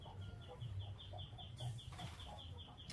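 Village chickens cluck and murmur on a farm, a steady scatter of close, low clucks running throughout, with a repeating high chirp overhead and faint background noise.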